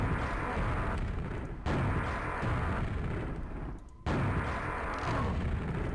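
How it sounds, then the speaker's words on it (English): Rocket launcher blasts in a first-person shooter level, loud heavy booms in quick succession with short gaps between them, filling the clip with no talk. "Now I can blow up stuff like that."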